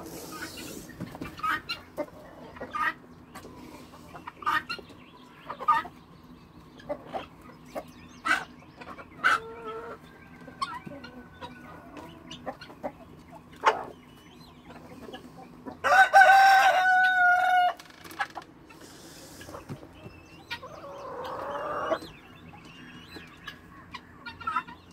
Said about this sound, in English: It's a free range quail right there, guys.